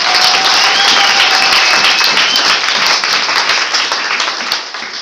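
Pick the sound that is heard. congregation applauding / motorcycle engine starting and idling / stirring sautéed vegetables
congregation applauding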